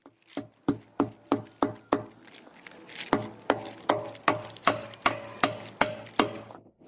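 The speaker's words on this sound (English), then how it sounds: "With nails and a hammer, I'll fasten the tire to the wood like this." A hammer drives nails through an old tire into wooden legs, about fifteen sharp, evenly paced blows in two runs with a short pause between, each strike ringing close and loud.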